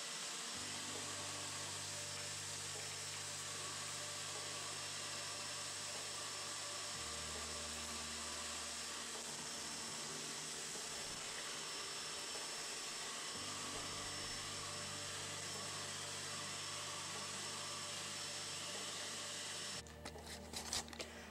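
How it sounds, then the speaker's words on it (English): A shop vac fitted with a cyclone separator bucket runs steadily, its motor whine and airflow roar sucking up sawdust, loud and continuous with slight shifts in pitch as debris passes through. "the pile of sawdust is sucked into the bucket"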